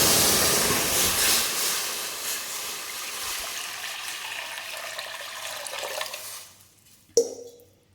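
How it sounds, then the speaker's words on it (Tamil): Water pours steadily from a tumbler into a pot for a sweet semolina dish, a loud rushing stream that slowly fades and stops, followed by a brief clunk. "தண்ணி ஊற்றியாச்சு."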